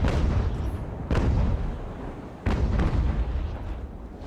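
Naval cannon broadsides from sailing warships in the strategy game Ultimate Admiral: Age of Sail: two loud, booming shots roughly a second and a half apart, each with a long rumbling tail over a steady low background, no speech.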